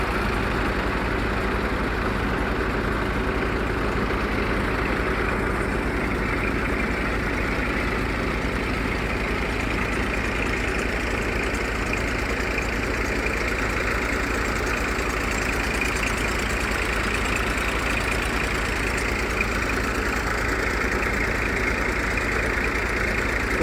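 At a foundation dewatering site, a tractor-driven Bahubali pump motor runs steadily at a lowered speed. Its low, even diesel drone with a rhythmic knock carries on unbroken and loud throughout, with no voices.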